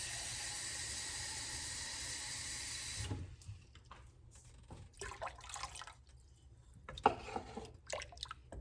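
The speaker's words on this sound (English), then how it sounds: "I think I need to add a little bit more water." Water splashes into a pot of dinner cooking on a stovetop turned up high, with a steady pour at first. Scattered drips and quiet splashes follow in a quiet kitchen.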